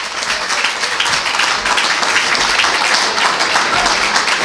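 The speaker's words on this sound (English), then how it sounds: "Don't know why you clap, but clap anyway." Audience applause fills a political party's state spring convention hall, a steady dense wash of many hands clapping throughout, loud and close with no pauses.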